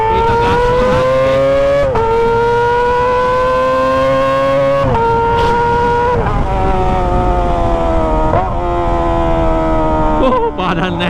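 Kawasaki ZX25R motorcycle with an aftermarket exhaust revving hard through the gears, a loud, high-pitched screaming engine note that climbs, drops at each shift and climbs again, close and continuous, passing through a crowd.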